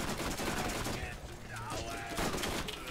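An SMG fires in Borderlands: dense, rapid bursts of gunfire over busy game noise, with continuous rattling shots throughout.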